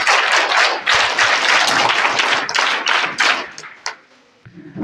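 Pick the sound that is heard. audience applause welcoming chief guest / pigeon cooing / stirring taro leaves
audience applause welcoming chief guest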